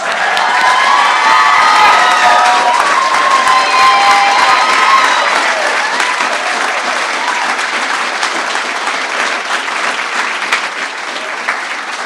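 A large ceremony audience applauds newly commissioned United States Army second lieutenants, with loud sustained clapping and some cheering and whoops that fade slightly toward the end.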